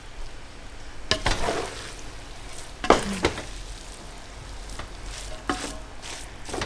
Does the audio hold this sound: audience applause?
no